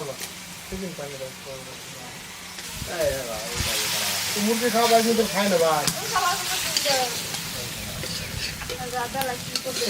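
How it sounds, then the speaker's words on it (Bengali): Hilsa fish being added to spiced masala in a hot pan, with a steady frying sizzle and stirring that grows louder midway, while a person talks over it throughout. "মশলা কষানো হয়ে গেছে, ইলিশগুলো আমরা দিয়ে দিচ্ছি।"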